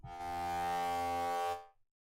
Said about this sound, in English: I'll just play the swarm, and I put a bit of distortion on it.